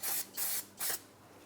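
Three short, close hissing bursts of spray rinse the wheel hub of a 2004-2008 Pontiac Grand Prix, with brief pauses between them and no talking.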